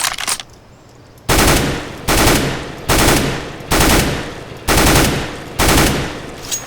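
A Colt rifle in CS:GO fires a series of loud, rapid bursts at close range. Roughly five short volleys come at an even rhythm, each with a brief pause after it, and there is no talk.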